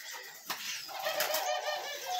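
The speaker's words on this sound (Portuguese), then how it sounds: "A pomba burguesa tá lá." Barbary doves in an exotic bird aviary coo and flutter close by, with soft wingbeats and a busy mix of bird calls around them.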